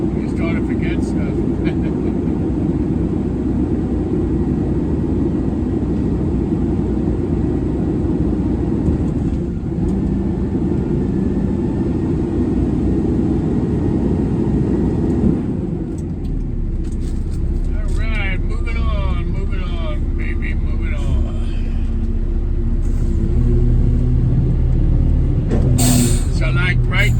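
Garbage truck rolling across an icy parking lot, a heavy continuous engine drone with crunching, rattling texture, loud and close.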